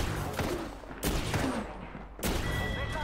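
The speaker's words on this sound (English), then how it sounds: "It's a shotgun" A shotgun fires in the video game Apex Legends, sounding as a few sharp, loud blasts over a constant bed of dense in-game noise.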